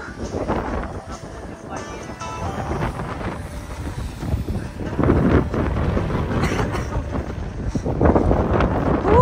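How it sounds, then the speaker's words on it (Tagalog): A strong wind buffets the microphone with heavy, rumbling gusts near a coastal walk on the way to Durdle Door in Dorset. The gusts swell louder in the second half, and voices talk faintly underneath. "Kailangan malakas ang hangin."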